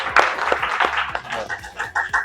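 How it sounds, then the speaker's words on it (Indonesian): A classroom group claps for a student named Catur in a quick, rhythmic string of claps, mixed with chuckles and voices. "Tepuk tangan buat Catur."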